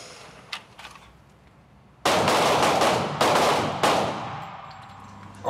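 Loud, rapid gunfire at a police shooting range, a booming burst with several overlapping reports and echoes that ring on for a few seconds, after a few faint distant pops.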